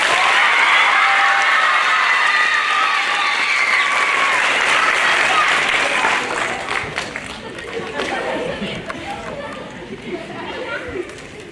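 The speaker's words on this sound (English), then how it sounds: "One more round of applause, please." A crowd at a fifth grade graduation applauds loudly and steadily, the clapping thinning out after several seconds as murmured chatter carries on underneath.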